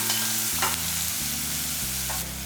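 Slit green chillies drop into hot oil in a pan with onion, sizzling loudly and steadily while a spoon stirs with a few clear scrapes, no talking, for a Tamil buttermilk curry.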